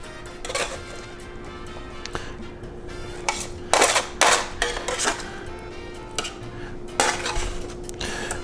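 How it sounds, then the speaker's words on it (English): A spatula scrapes and knocks against a metal pan and blender jar while fire-roasted cherry tomato salsa ingredients are scooped in, giving several sharp clanks and scraping sounds over steady background hum, with no talking. "So it's easier just to kind of scoop this with a spatula"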